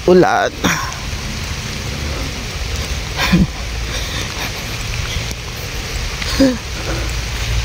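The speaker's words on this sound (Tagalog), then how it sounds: "Uy, ulan." Steady rain hisses over a broad wash of noise, with a few short bursts of nearby talk breaking in.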